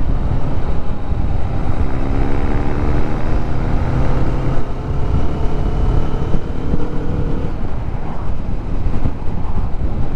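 A Kawasaki Vulcan S motorcycle rides at about 50 miles an hour in fourth gear, giving a loud, steady engine drone with heavy wind rush that runs unbroken throughout.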